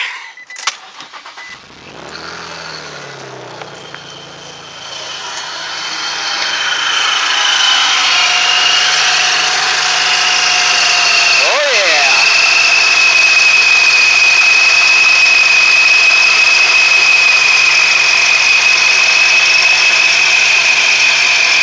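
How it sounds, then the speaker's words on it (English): A car engine cranks over briefly and catches, then settles into a loud, steady idle with a constant tone, close to the listener and with no voices. "Let me start the car so you can hear it going."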